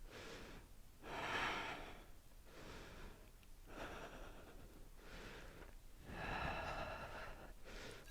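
During a yoga half handstand, a person breathes deeply and audibly in slow, rhythmic breaths, with about five long inhale and exhale cycles heard close and fairly quiet.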